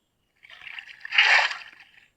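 Short game sound of water being scooped up in Minecraft: a light trickling slosh building to a brief louder splash, then fading, with no talk.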